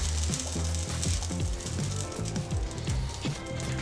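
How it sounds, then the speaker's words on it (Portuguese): Butter sizzles and crackles in a hot pan, a busy frying hiss with scattered pops, close and fairly loud. "esquentar nossa panela novamente, colocar um pedacinho de manteiga."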